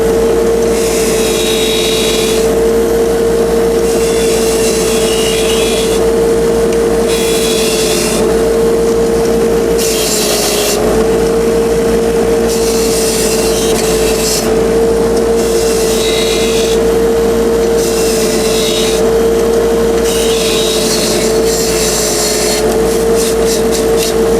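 A bench grinder runs loud and steady with a constant motor whine while bicycle parts from a Giant Cypress comfort hybrid are held to it, the grinding rising and falling in repeated passes.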